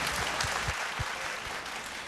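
Audience applause for production partners at a televised singing competition, a dense, steady patter of many hands clapping without talk.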